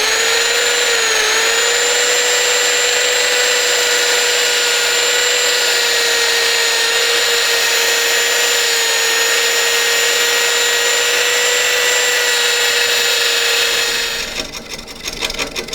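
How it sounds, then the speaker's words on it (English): Sanding a turned wood burl on a lathe gives a steady, loud whir with a sustained tone that holds for about fourteen seconds, then cuts off abruptly into quieter rustling. "So all I have to do is sand this"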